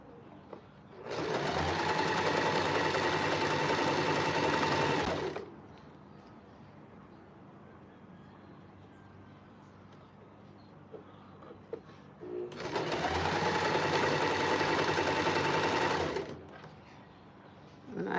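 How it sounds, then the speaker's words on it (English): A sewing machine stitches a fabric flower onto a cat toy in two loud, steady runs of several seconds each, separated by a quieter pause of faint handling noise. "I'm just laying it on here and just sewing it on however it goes."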